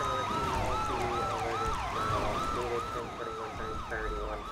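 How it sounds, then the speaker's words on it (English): Wailing police siren on a Highway Patrol Crown Vic in a roleplay video game, rising and falling in a steady, repeating sweep, loud and continuous over a low engine rumble. "Maybe a little quieter on the sirens, that way it's not too intense."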